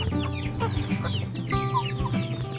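Several Shamo chickens cluck and call on a farm, with overlapping chirps and clucks from a busy flock close by, steady and moderately loud throughout.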